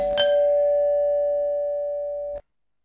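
A single electronic doorbell chime rings once, clear and close, then its sustained tone fades for about two seconds before cutting off abruptly.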